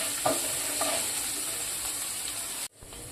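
Cumin seeds and asafoetida roasting in a hot pan for dal khichdi, a steady close sizzle with a few soft stirring scrapes, cutting off abruptly near the end.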